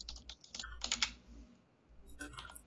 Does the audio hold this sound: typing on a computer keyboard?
yes